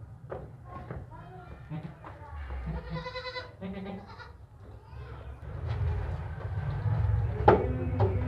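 Close goat bleats ring out in short, wavering bursts among shuffling and rustling, with someone talking nearby.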